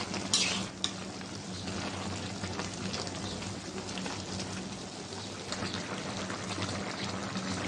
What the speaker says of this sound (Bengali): বলক এসেছে, নাড়াচাড়া দিয়ে দিব।